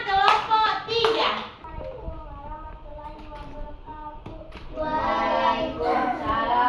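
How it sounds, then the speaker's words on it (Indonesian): Classroom group of children clapping for a group that has just answered, with bursts of handclaps at the start and again near the end, and a voice in between. "Oke, tepuk tangan untuk kelompok 2."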